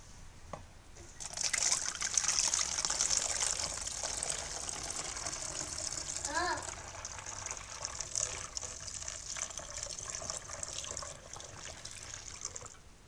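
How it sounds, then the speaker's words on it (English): Beer poured from a bottle through a funnel into another bottle for yeast harvesting, a continuous close trickling and gurgling stream running for over ten seconds with a brief bubbling glug midway. "Pour that into the bottle carefully."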